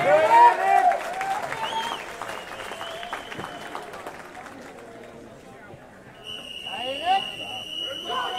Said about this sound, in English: one round of applause for the men, 100 meters backstroke